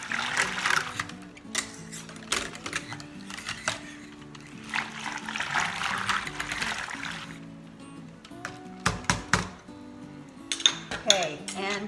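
A utensil clinks against a bowl while yogurt starter is stirred into milk for Greek yogurt, with irregular taps and scrapes close by over a low hum, and a voice speaking at times.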